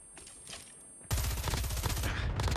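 FFAR 1 assault rifle firing in COD Mobile: after a quiet stretch with faint game sounds, a loud, sustained burst of rapid automatic gunfire breaks out and continues to the end.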